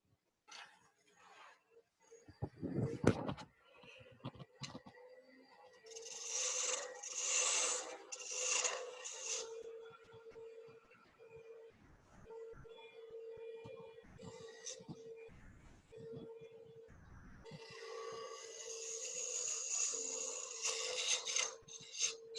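A woodturning tool cuts the tenon of a wooden bowl spinning on a lathe, giving bursts of rasping, scraping shavings between quieter stretches, with a steady motor hum underneath and a person talking at times.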